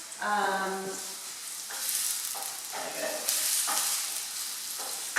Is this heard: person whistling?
no